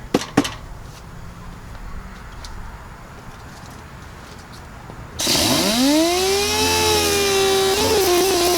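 After a few quiet seconds, a power sander starts up close by on a car fender, revving to a loud, steady whine that holds for several seconds.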